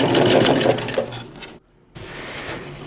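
A sewing machine runs a stitch down a polo shirt seam in a steady mechanical whir, close and loud, breaking off briefly to near silence before starting again.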